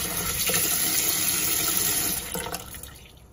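Pho noodles are rinsed under cold running water, a loud steady splashing flow from a tap that tapers off toward the end.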